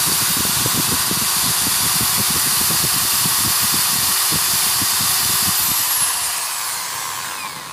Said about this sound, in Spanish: el ventilador se activará.